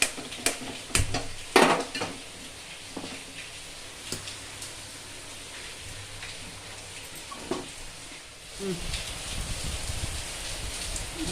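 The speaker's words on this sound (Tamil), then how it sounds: "நெய்யில் தேங்காய் வறுத்துக்கிறேன்" Soft sizzling and crackling of grated coconut frying in ghee while making sweet paniyaram, with several loud clinks of a metal utensil against the pan early on.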